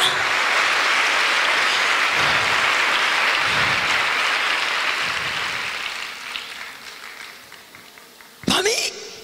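A church congregation applauds in a broad, steady wash of clapping that thins and fades over several seconds, with some talk underneath and a brief sharp noise near the end.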